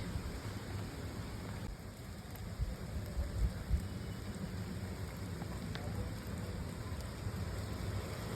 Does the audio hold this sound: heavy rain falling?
yes